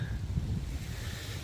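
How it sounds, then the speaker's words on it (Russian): Strong gusting wind outdoors on a windy day at a welding site, a rough, low buffeting roar that surges and fades unevenly, fairly loud and alone with no talking. "Сильный ветер."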